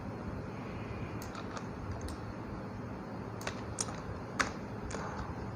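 Sparse computer keyboard key presses, a few isolated clicks at irregular intervals over steady low background noise, faint and fairly close, with no talking.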